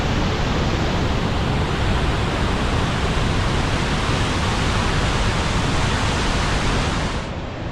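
The middle falls at Letchworth roar as a loud, steady wall of rushing water, with no break or voice over the noise.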